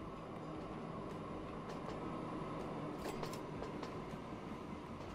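A train in the Train Fever video game rolls into a station, a steady low rumble of wheels and running gear with faint clicks and brief squeals, heard alone at a distance without any talk.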